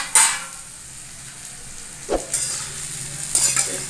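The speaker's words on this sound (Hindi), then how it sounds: "इसे चला देते हैं।" Potato and beans curry is stirred in a pan over a low, steady sizzle, with a few distinct scrapes and knocks of the spoon at the start, middle and end.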